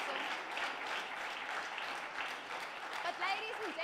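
An audience applauds a primary school winning a reading prize, steady massed clapping throughout with crowd murmur and a voice speaking over it near the end.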